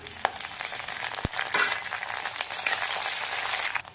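Garlic and curry leaves sizzle and crackle in hot oil in a clay pan for a bitter gourd kuzhambu, a steady close frying hiss with a brief sharp clink near the start.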